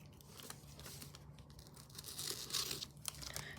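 The back of a package tears open close by, giving ripping and crinkling sounds in short irregular bursts at moderate volume.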